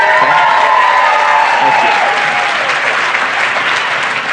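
A studio audience claps loudly and steadily, a dense wash of applause with some cheering that holds throughout, with a voice faintly underneath.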